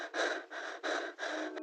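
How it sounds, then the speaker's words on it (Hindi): Heavy, ragged breaths drawn right against the ear as a horror sound effect, three long rasping inhales and exhales in slow rhythm, loud and intimate with no talking. "मेरे कान के पास किसी की सांसों की आवाज आई"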